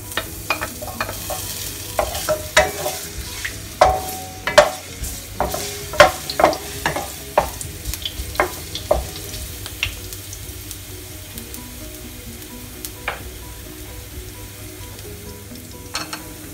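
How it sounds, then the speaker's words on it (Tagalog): Ginger sautéing in hot oil in a wok makes a steady low sizzle close by. Frequent scraping and tapping strokes from a spatula fall over it, busy early on and thinning toward the end. "pwede ko na pong igisa yung luya"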